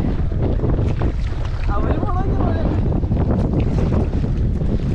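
Water lapping and splashing against a kayak on a dam reservoir, heard as a steady close wash blended with strong wind buffeting the microphone throughout.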